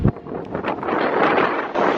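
Steady broadband wind buffeting a microphone, rushing and rumbling throughout with gusty swells, no voices.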